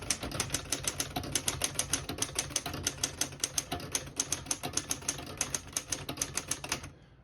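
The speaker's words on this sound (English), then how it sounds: "I'll type a sentence on the next line." A 1939 Woodstock desktop typewriter typing out a sentence, a brisk, even run of sharp key strikes close by, about thirty clacks in steady rhythm before stopping.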